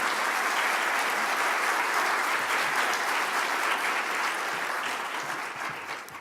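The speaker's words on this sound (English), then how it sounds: "Yes, clap for that." Loud, dense applause from a crowd at a community college event, a steady roar of many hands clapping close by that stays full throughout before easing slightly at the end.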